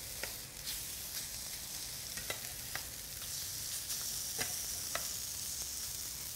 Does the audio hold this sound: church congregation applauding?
no